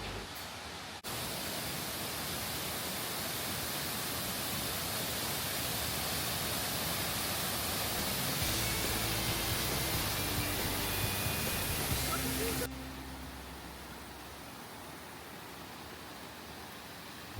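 A waterfall at a resort in Coorg gives off a steady, dense rushing roar that holds throughout, with a faint low hum joining partway through and no voices.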